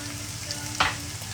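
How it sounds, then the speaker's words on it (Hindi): Ginger and garlic sauté in a kadai with a soft, steady sizzle, broken by one brief louder stir or clatter partway through. "ये थोड़ा सॉटे हो रहा है"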